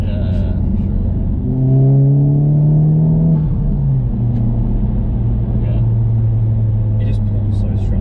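A Honda Civic Type R FK8 with a turbo VTEC engine accelerates hard from inside the cabin, a steady loud rumble with a rising tone that drops at a gear change and then climbs again.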